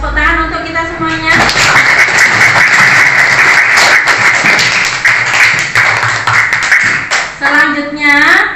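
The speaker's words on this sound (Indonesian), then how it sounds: "Ya, tepuk tangan untuk kita semuanya." Schoolchildren in a classroom clap together in a dense, steady burst lasting several seconds, with voices heard just before and just after.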